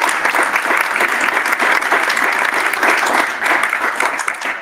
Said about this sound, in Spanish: Un aplauso otra vez, por favor.